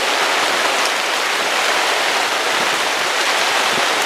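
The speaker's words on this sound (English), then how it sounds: "Just out of nowhere, it's raining." Rain falling at a campsite in the Rocky Mountains, a steady, dense hiss of drops with no pauses, close and fairly loud, and no voices.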